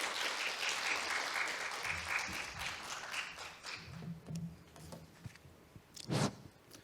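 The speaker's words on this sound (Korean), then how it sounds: "큰 박수로 윤재홍 연구원님을 맞이해 주시면 감사하겠습니다." An audience at a stock investment lecture claps steadily, a dense patter of applause that gradually thins out, with a few louder claps and faint voices near the end.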